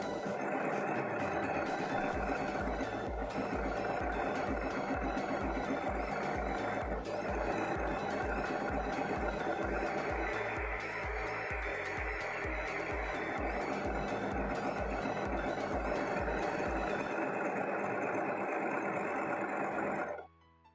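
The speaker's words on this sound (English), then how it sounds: "I'm going to finish the seam allowances straight away with my overlocker" An overlocker finishing seam allowances on challis fabric, running at a fast, steady mechanical whirr with a dense rhythmic stitching beat, close and continuous for about twenty seconds before stopping abruptly.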